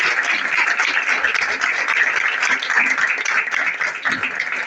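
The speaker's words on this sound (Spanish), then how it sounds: "vamos a darle un aplauso" An audience applauds at an evening science talk event in Iguazú, a dense, steady wash of many hands clapping that holds evenly throughout without a break.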